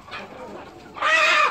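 Jungle fowl chickens on a farm give faint clucks and calls at first, then a louder burst of bird calls near the end, with a voice also heard.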